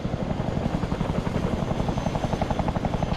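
A helicopter in the military game Arma 3 is heard up close, its rotor beating in a steady, fast chop with a heavy engine drone that fills the whole stretch, loud and constant with no voices.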